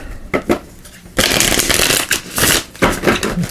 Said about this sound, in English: So let's give this a shuffle.